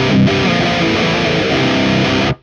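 High-gain electric guitar played through a Bogner Alchemist amp, a thick, saturated distorted chord ringing loud and sustained for about two seconds before being cut off abruptly.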